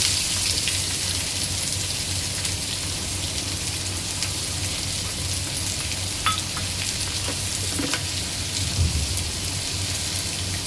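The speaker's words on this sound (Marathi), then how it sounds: "तेल चांगलं गरम झालेलं आहे। यामध्ये टाकणार आहे बारीक चिरलेला कांदा" Finely chopped onion fries in well-heated oil, producing a loud, continuous crackling sizzle throughout with a couple of brief stirring clicks and no talking.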